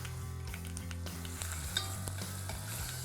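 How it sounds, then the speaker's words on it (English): Garlic and ginger sauté in a hot pan for an Indian dish, a steady close sizzle with a few clicks and scrapes of a spoon stirring through it, with no talk. "Now let's get our garlic and ginger in."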